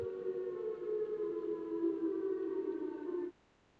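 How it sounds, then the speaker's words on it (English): A Chicago civil defense siren: a steady wail with layered harmonic tones holds for about three seconds, then cuts off abruptly into quiet. "It is a Chicago siren, yeah."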